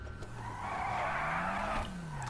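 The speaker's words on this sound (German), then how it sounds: "der durchdrehende Reifen beim Frontantrieb" Front-wheel-drive car in GTA V Online spinning its tires, a loud sustained screech with the engine note rising and falling beneath, close and continuous throughout.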